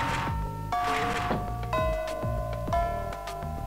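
A school bell rings in the Fate/Extra classroom, a series of clear chiming tones with ringing overtones that strike one after another and sustain over a few seconds, loud and alone without talk.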